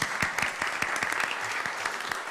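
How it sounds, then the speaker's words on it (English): People at a city commission meeting clap for two honorees, a brief, moderately faint round of scattered applause in a meeting room. "let's give a round of applause for the two people who are here tonight"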